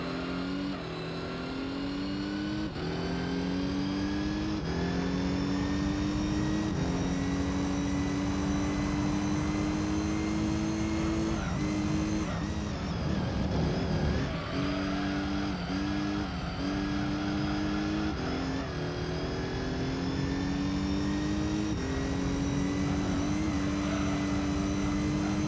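A race car engine in Gran Turismo 3 revs hard against its short rev limiter, a loud droning whine that stutters rhythmically as the limiter cuts in, with brief dips between gear changes.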